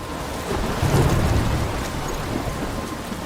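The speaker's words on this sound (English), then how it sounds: "I'm trapped in a storm?" In the video game Life is Strange, a thunderstorm pours steady heavy rain with a low rolling rumble of thunder swelling early, dense and loud throughout.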